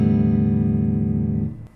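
A clean electric guitar rings out with a single sustained, undistorted note that holds steadily, then fades and cuts off near the end.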